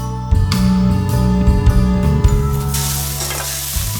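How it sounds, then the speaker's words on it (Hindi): Chopped onions fry loudly in a pan for dal makhani, a bright close sizzle over a low hum, with knocks and scrapes of a utensil as they are stirred, then a surge of hiss near the end. "अब इसमें मैं ये मैंने प्याज चॉप करके रखे हैं, ये ऐड करूंगी। इनको भी मैं हल्का ब्राउन होने दूंगी।"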